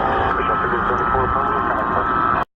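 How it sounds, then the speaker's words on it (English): Radio chatter from an airport control tower, heard at a busy plane-spotting spot: a steady, dense stream of crackly talk over the band, carrying on without a break until it cuts off sharply near the end. "You can hear the tower going."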